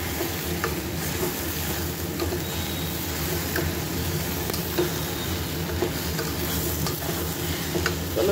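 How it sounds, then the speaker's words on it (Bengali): Chopped vegetables frying in a pan with oil, a steady broadband sizzle with occasional stirring scrapes and clicks, continuous and fairly close throughout. "এবারে সবজিপাতি যা আছে একটু ভেজে নিয়ে বানিয়ে নেব"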